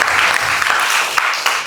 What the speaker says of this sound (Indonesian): Beri tepuk tangan untuk Emir